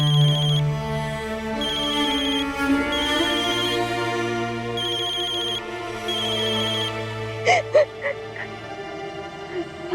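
A mobile phone ringtone plays loud and close in a repeating electronic melody for several seconds, then a few sharp knocks near the end.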